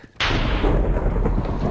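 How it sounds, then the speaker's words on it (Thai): A sudden loud lightning strike and thunder crack in Minecraft, bursting in abruptly and rolling on as a dense, sustained rumble with no talk over it. "บอกทีว่ามันคือฟ้าผ่าแบบปกติ"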